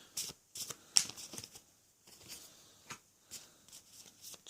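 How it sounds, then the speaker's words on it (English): A deck of cards shuffled by hand during a tarot-style reading: quiet, close riffling bursts in short separate flurries with soft pauses between them. "all you've seen me do or heard me do is shuffle the deck"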